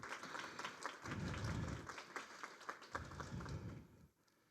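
A crowd applauds steadily, the clapping swelling and dipping over a few seconds before fading out.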